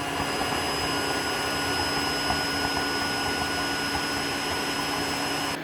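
A Tineco iFloor3 wet vacuum running its self-cleaning cycle with clean water, making a continuous loud motor whine and airflow roar with a steady tone, uninterrupted for several seconds with no talk.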